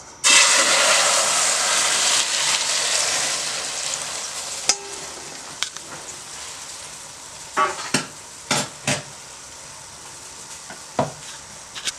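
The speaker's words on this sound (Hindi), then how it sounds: "अब आप कढ़ाई में शीरा डालें" Sugar syrup pours into a hot wok for wedding-style halwa, giving a loud, steady sizzling hiss that slowly fades, followed by several sharp clanks and scrapes of a spoon against the pan.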